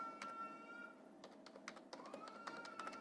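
Quiet, steady clicking of keys on a computer keyboard in a school computer lab, scattered taps alone with no voices.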